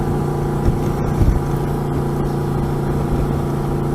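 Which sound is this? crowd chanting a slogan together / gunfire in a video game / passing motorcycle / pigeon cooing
passing motorcycle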